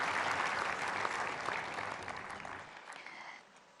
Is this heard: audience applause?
yes